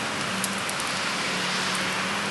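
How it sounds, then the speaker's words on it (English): Steady rain falling on a wet November Saturday, a dense, even hiss that stays loud and unbroken throughout, with a faint low hum underneath. "It is a wet and rainy Saturday"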